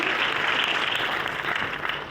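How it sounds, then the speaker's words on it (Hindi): Audience in a hall claps loudly and steadily, a dense wash of applause running the whole time with no voices over it. "तालियां खुल के बजाएं"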